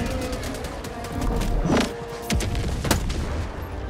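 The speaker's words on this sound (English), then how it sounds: "Calling in orbital strike. Yeah. Orbital strike incoming." Orbital strike explosions rumble and boom in the video game Helldivers 2, a few heavy blasts at mid distance over a continuous dense din.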